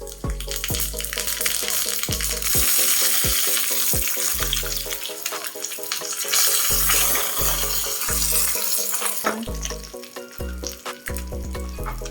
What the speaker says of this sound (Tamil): இப்போ நம்ம இதில் எண்ணெய் ஊற்றிக்கலாம். இப்போ நம்ம கடுகு போட்டுக்கலாம்.